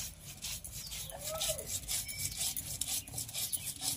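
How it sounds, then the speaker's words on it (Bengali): Cumin and two or three dried chillies are ground into a paste, making a continuous close scraping and rubbing with an uneven back-and-forth rhythm and a faint stray voice in the background. "এবারে জিরে আর লঙ্কা, 2-3টে শুকনো লঙ্কা নিয়েছি, বেটে নেব।"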